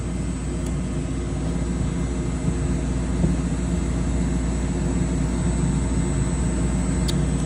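A cam grinding machine in a racing cam shop runs with a steady, loud mechanical hum and low drone as its grinding wheel travels, continuous throughout with no talk.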